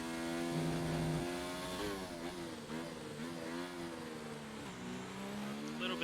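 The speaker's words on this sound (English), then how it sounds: "Revving that engine." A race car engine screams in a racing video game at the Bahrain Grand Prix, its pitch climbing and dropping through revs and gear changes, loud and continuous throughout.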